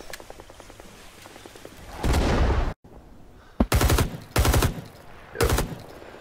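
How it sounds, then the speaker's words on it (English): PPSh submachine gun fire in the video game Rising Storm 2, heard close as several loud, rapid automatic bursts separated by short pauses, with no talk over the shooting. "clearly heard a PPSH very close"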